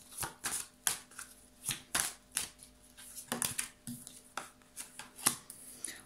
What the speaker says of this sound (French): Je vais tirer plusieurs cartes